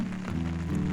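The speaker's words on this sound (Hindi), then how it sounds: "क्योंकि रात से ही मुसलसल बारिश हो रही है" Continuous rain falls steadily over a village on a cold, foggy morning near Peshawar, a dense even wash of sound without voices.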